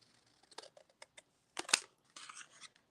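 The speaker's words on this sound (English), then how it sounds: "So let's just use some scissors." Scissors snip through a gelli print in a quiet room, with a few short, crisp cuts and rustles of paper spread over about three seconds, one sharper snip standing out midway.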